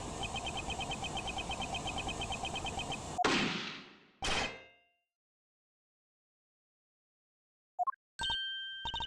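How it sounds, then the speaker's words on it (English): A gunshot captured on a bug recording in the Ace Attorney Investigations 2 video game: a sharp, loud crack with a short ringing decay, then a second burst and silence, with clipped electronic blips at the end. "That was a gunshot!"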